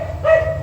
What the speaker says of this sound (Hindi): बहुत यार भौंक रहा है।